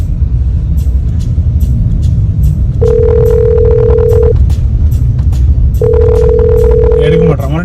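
Phone call ringing out unanswered: two long steady ringback tones, each about one and a half seconds, heard loud and close over a constant low rumble, with faint voices in the background.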